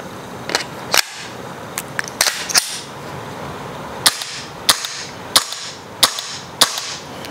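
Sharp, snappy shots from an AST Maple Leaf Solo Hand ML-44 gas blowback airsoft pistol during a performance test, a dozen or so close, crisp cracks fired singly in an uneven rhythm with quiet gaps between.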